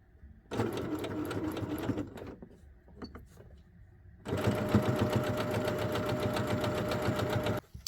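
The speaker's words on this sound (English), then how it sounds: "Raise that presser foot, turn my work, and continue stitching." A sewing machine stitches a welt pocket line through fabric in two long, steady runs separated by a short pause of light handling noise, close and loud with no talk.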